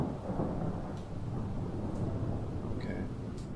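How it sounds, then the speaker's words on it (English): Steady rain with low rumbling thunder in the video game Project Zomboid: a constant wash of rainfall over a deep, continuous roll, with a couple of faint small clicks. "More rain."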